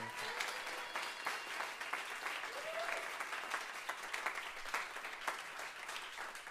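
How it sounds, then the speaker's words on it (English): Audience applause fills a live music venue after a band's set, a steady wash of many hands clapping that holds at an even level throughout, with no speech over it. "Give them a round of applause."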